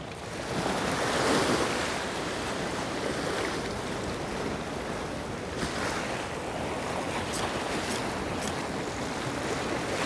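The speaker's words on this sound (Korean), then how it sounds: "농어 낚시를 할 수 있는 파도가 아닌데 너무 높은데" High sea waves surge and break along the rocky shore of Gapado island during squid fishing, a continuous loud wash of surf with wind over the water and no voices.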